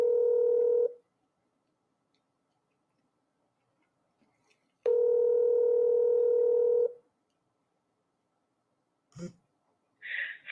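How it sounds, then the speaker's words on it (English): Telephone ringback tone heard over a speakerphone while calling a classic and custom car shop, two long steady ring bursts separated by silence, followed by a faint click and brief noise. "Can you hear the phone ringing?"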